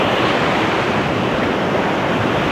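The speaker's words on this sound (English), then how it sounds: "I'm gonna tee up to these crashing waves" Crashing ocean waves beside a coastal edge roar as a loud, continuous broadband wash of surf, steady throughout with some wind buffeting the microphone and no talk.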